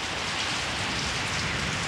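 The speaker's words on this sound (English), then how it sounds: "After 15 hours, it began to rain." Rain falls steadily during a military operation in the field, a dense, even hiss of drops on surfaces with no breaks and no voices.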